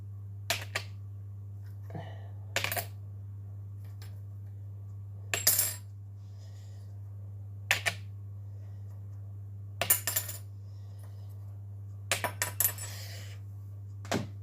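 Champagne caps tossed during a cap-throwing competition, a series of sharp metallic clicks and clatters landing at irregular intervals, some in quick pairs, over a steady low hum.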